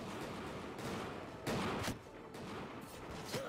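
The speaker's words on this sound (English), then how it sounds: "Guns at the ready, lads. Anything that moves, fire away." Volleys of musket gunfire crack out in the Bannerlord video game during a Normandy assault in a Europe 1700 setting, with several bursts of shots, the loudest cluster in the middle, over steady battle noise.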